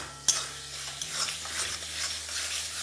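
Spiced tomato masala with salt is stirred in a pan: a sharp utensil knock is followed by soft, faint scraping and a low, gentle sizzle.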